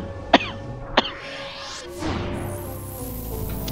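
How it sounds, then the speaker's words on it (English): A person gives two short, sharp coughs close by, followed by a rising whoosh and a steady background hum. "And now I'm coughing."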